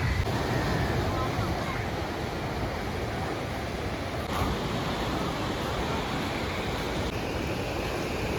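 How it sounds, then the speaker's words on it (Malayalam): Sea waves wash steadily onto the Fort Kochi beach, a continuous broad roar of surf mixed with wind buffeting the microphone, with no distinct breaks. "തിരമാലകൾ ഇങ്ങനെ അടിച്ച് കയറുന്നുണ്ട് കേട്ടോ."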